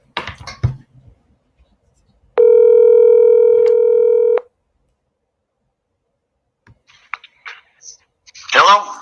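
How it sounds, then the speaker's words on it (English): A steady telephone dial tone sounds for about two seconds while a call is being placed, preceded and followed by faint clicks and handling noises. "get Bob on the phone here."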